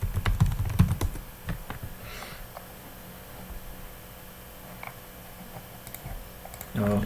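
Fingers tap quick bursts on a computer keyboard while entering a search, with brisk clicking keystrokes at first, sparse taps later and a louder rustle at the end.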